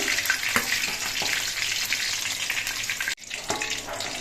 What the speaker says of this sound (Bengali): মোটার পিসগুলো ভাজতে যে খুব একটা তেল লেগেছে সেটা কিন্তু না